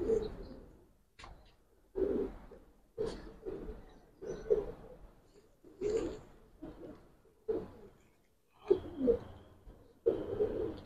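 Silver Giribaz pigeons cooing close by, soft low coos repeating about once a second in a steady rhythm with short pauses, no voices.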